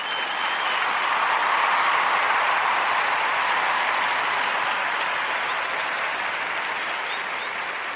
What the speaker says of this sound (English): Let's give her a round of applause for a job well done.